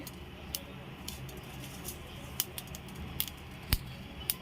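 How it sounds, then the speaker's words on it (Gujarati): Mustard seeds popping in a pan, sharp scattered pops and ticks at irregular intervals over a faint continuous sizzle, quiet and close. "તો અહીંયા આપણી રાઈ ફૂટી ગઈ છે"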